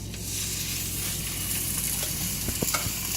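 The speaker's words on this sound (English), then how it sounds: "I'm just going to brown these on both sides" Steady, continuous sizzling of pork chops browning in a hot frying pan, with a few faint clinks of a utensil near the end.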